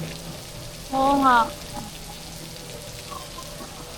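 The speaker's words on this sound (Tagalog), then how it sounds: "It's raining." Rain falls in Singapore with an even hiss throughout, while a voice briefly speaks over it midway.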